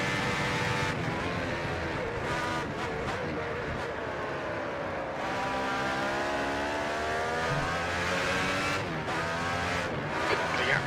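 Loud 1991 Formula 1 race cars with V8, V10 and V12 engines scream continuously at Suzuka, high revving engine notes rising and falling as they shift gears and pass, with faint commentary underneath.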